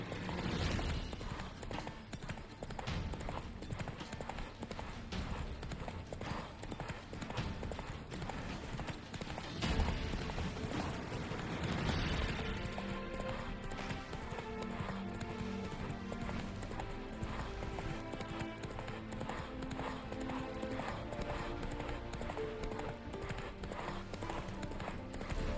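Roach the horse gallops steadily through The Witcher 3, a continuous clip-clop of hooves running under game music and ambience, with a brief louder swell near the middle.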